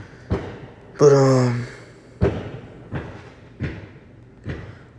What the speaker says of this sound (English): Oh, it's fireworks.